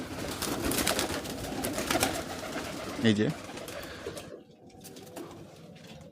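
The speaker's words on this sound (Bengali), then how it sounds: "এই যে বুনো কবুতর, এই যে এটা দেশি কবুতর, এই যে এইগুলো হচ্ছে গিরিবাজ" Pigeons coo in a loft of wild, local and Giribaz birds, soft rolling calls under a person's voice, with one louder coo standing out midway and quieter surroundings afterward.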